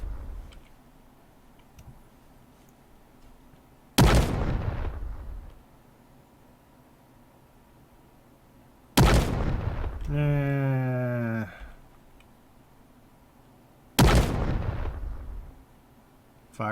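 A tank cannon in a video game fires three times at even intervals, each a loud sharp blast trailing into a fading rumble, with a rising mechanical whirring reload sound after the second shot; no voices heard.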